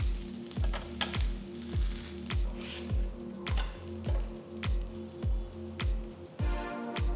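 Ragi and green gram dosa batter sizzles and fries on a hot griddle while it is gently pressed, making a steady crackle with rhythmic soft pulses about every half second.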